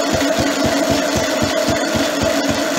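A single-cylinder Lister D engine, freshly fitted with a new spring and tuned, idles very slowly at close range. It beats out an even run of heavy low thumps, several per second, with no talk over it.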